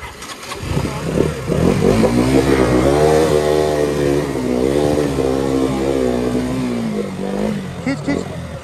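A KTM Duke motorcycle revving hard while pushed through water on an offroad trail, its loud, strained engine note rising and holding close by for several seconds as people shout over it.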